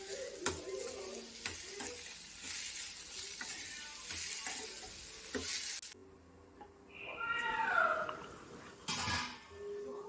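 Green chillies, tomato and onion frying in a pan, with a steady sizzle, stirring scrapes and clicks running throughout, and a brief cat meow partway through.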